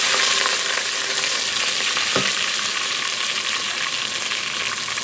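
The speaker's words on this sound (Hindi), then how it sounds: "इसमें डाल दिया हमने अदरक लहसुन का पेस्ट" Ginger garlic paste fries hard in oil with browned onions, giving a steady, dense sizzle that stays loud and close throughout, with one brief clatter of stirring partway and no voices.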